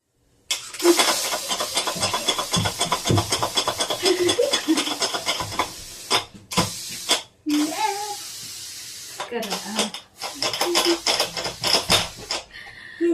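A pressure cooker hisses loudly as steam escapes in bursts that stop and restart while pav bhaji is being cooked, with a child and an adult talking nearby.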